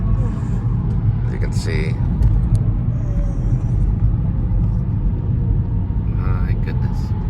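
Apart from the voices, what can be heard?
road traffic heard from inside a car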